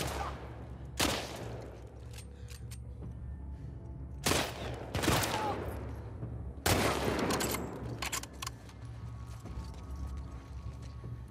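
Gunfight in The Last of Us Part 2, with several loud, sharp gunshot bursts ringing out against a steady ambient background.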